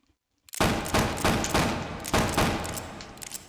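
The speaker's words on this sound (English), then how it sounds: "You can also fan the gun, hold in the trigger." A Colt Single Action Army revolver being fanned in the VR game H3VR, firing five or six rapid, evenly spaced loud shots after a brief silence, each one ringing out before the next.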